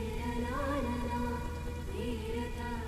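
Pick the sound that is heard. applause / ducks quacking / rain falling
rain falling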